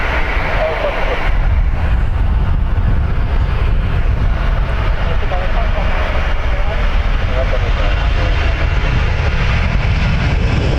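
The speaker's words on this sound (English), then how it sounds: "He's already got his clearance for takeoff." An airliner taking off from Dublin Airport bound for Palma de Mallorca, its engines a steady, broad low roar that holds for the whole stretch, with a voice talking over it.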